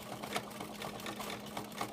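A domestic home sewing machine free-motion quilting makes quiet, steady mechanical stitching chatter with rhythmic needle ticks, running continuously and close up.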